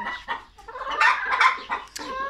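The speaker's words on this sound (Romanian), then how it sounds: "uitați ce cea mai urâtă găină, care nu mai are nici pene pe ea" A featherless, balding hen clucks in a short run of close, loud calls with brief pauses, one sharper squawk near the end.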